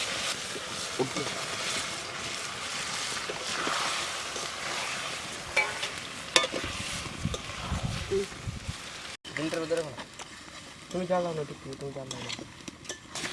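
Potatoes tipped into a frying masala and stirred in a pan while cooking outdoors in a forest setting, making a rough sizzling scrape that is often covered by nearby talking.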